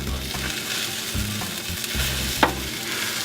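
An omelet fries with a constant sizzle in a pan, with soft scraping of a spatula and one quick clack as it is flipped partway through; nobody speaks.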